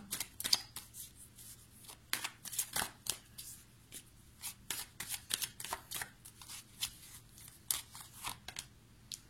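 Tarot cards handled and laid out on a table, close and quiet, with repeated soft shuffling flicks and papery slaps in an uneven rhythm, no talk.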